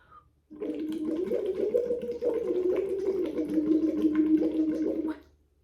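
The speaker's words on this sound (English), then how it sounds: "we're just bubbling as we make sound" Steady bubbling as air is blown through a straw into water, a continuous burbling that runs for several seconds, close and fairly loud, then stops.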